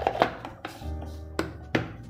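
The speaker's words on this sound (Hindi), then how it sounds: "तो बस यहाँ पे मैं ये प्याज को चॉप कर लेती हूँ।" An onion is chopped with a knife on a board in a home kitchen, giving several sharp, separated chops with uneven gaps between them and a low hum in the background.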